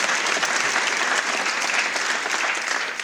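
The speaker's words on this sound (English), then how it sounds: "We'll give him a round of applause." A crowd at an athletics hall of fame event breaks into loud, sustained applause, many hands clapping close and evenly throughout, easing slightly at the very end.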